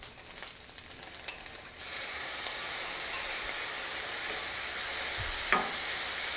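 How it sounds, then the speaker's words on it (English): Thai-style fried rice with soy sauce stirred in a hot pan, giving a continuous frying sizzle that swells louder partway through, with occasional spatula scrapes and knocks, close up and without speech. "By the meantime, keep stirring."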